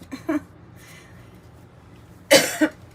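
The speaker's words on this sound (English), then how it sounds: "I have to cough." A single cough near the start, then a louder, sharper double cough close to the microphone after a quiet pause.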